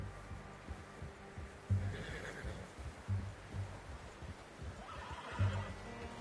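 A horse in a video game neighs and whinnies a few times in short bursts over a quiet background, with faint hoof sounds.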